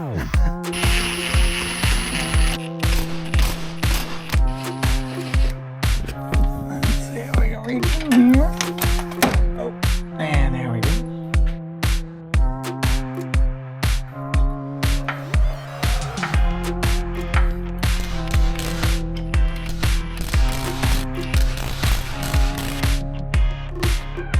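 A ratchet on a long extension loosens sway bar mount bolts on a 2024 Mustang GT, clicking in rapid repeated bursts with short pauses between strokes, close and loud.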